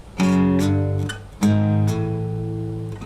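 Two ringing guitar power chords strummed in sequence, each left to sustain and fade slightly, clean and close with no other sounds.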